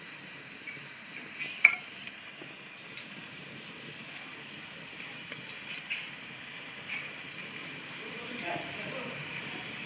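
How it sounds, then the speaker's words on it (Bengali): Banana-leaf-wrapped hilsa fish paturi arranged on a perforated metal plate set over a wok, with faint scattered clinks and taps of metal and utensils spread over several seconds against a quiet kitchen background. "এর উপরে আমি পাতুরিগুলো সাজিয়ে নিচ্ছি।"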